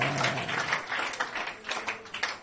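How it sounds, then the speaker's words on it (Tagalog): A church congregation clapping in praise of the Lord during a worship service. Steady, moderately loud applause fills the short moment, a soft wash of many hands without clear individual beats. "Tayo pong lahat ay pumalakpak sa Panginoon."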